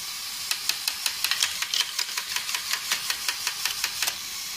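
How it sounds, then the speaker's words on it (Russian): A small toy boat engine runs with a fast, regular ticking putter, each sharp pulse evenly spaced, quiet and close, with no voices over it. "Включаю двигатель."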